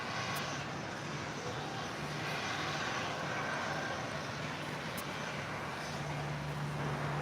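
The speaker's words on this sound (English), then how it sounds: "This arrival is Volati's Flight 922 coming in from Zacatecas on a 5-year-old A320neo." An Airbus A320neo airliner, about five years old, comes in to land at LAX, heard as a faint, steady, distant roar of jet engines washing over the scene with no voices.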